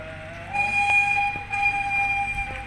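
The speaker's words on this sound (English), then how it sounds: "tumakbo na yung train." A train sounds a long, steady two-tone horn in two blasts over a low rolling rumble as it starts moving at Upper Canada Village, Morrisburg, Ontario, fairly loud and nearby.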